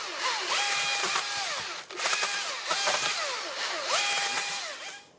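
A Husqvarna 536LiXP battery chainsaw runs in eco mode during forest thinning, its high electric whine rising and falling in repeated revving bursts with short pauses between, close and loud.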